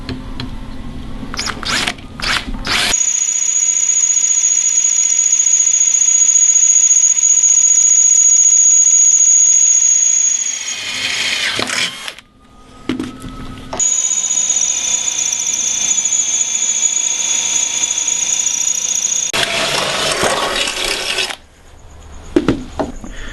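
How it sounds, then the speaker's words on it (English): A power drill whines loudly in long sustained bursts, pitch dipping as it bites into a scooter deck, separated by short pauses and clicks, close by. "I'm gonna drill one side first."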